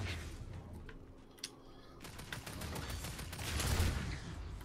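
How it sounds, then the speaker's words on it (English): Explosive gunshots in Fortnite, a rapid volley of sharp cracks and bursts that swells louder toward the end, fairly distant and low in level with no talk over it. "They've got explosive shots!"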